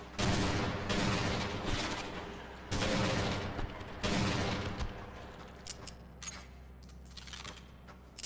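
Game weapon firing in a Half-Life mod, a railgun-like gun: several loud, sharp broadband bursts in irregular clusters, each with a ringing tail, followed by fainter metallic clatter and smaller shots.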